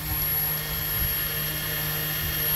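A 3D printed Hamilton Standard 11x6 propeller spinning at quarter throttle on a thrust test stand makes a steady, smooth motor-and-prop drone with a high whine that holds even throughout.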